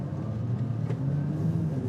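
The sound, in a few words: Audi RS5 car driving on the road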